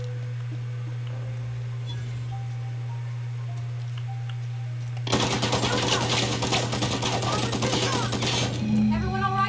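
Assault rifle gunfire from The Outer Worlds, a long loud burst of rapid automatic shots lasting several seconds, preceded by a low steady hum and faint quiet sounds.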